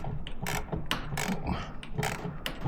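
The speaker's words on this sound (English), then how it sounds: "So what we're going to do is we're going to jack up the motor." A jack lifts the engine of a Kawasaki Z900RS motorcycle with a quick run of quiet ratcheting clicks, steady and close, with no voices.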